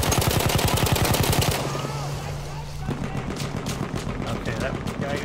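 Rapid machine gun fire in Battlefield 1, a fast steady burst up close for about a second and a half, then more distant shots and battle noise while someone talks over it.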